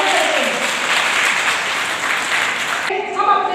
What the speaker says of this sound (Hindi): तिरंगे के लिए उसको नमन करते हुए जोरदार तालियों से अपने राष्ट्र को अभिवादन करते हैं।